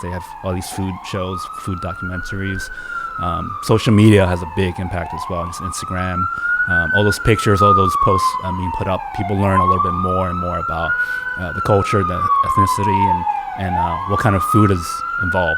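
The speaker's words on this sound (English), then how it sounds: "Is there a police car? That sounds right like an ambulance." An emergency siren, likely from a police car or ambulance, wails outside in repeated rising and falling sweeps, loud and steady, while someone talks continuously over it.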